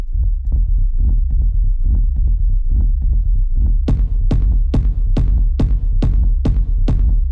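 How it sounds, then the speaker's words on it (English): An FM synth sine-wave bass runs through heavy distortion in a techno studio: soft throbbing low pulses first, then about ten loud, evenly spaced distorted bass hits with a sharp attack, alone without speech. "I wanted like catastrophic rumble. So that's what the distortion is there for."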